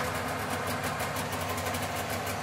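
Fuel-injected Subaru 360 engine idling at a steady mid-pitched rumble with a fast, even rhythm, close and continuous with no talk.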